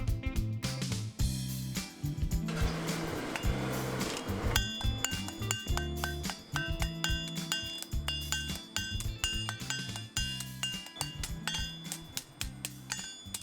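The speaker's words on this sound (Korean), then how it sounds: "탕탕탕탕 쇠망치 소리가 울려" Rapid metallic clanging of hammer blows on metal in a traditional blacksmith forge, ringing repeatedly in a steady rhythm with a busy, resonant workshop background.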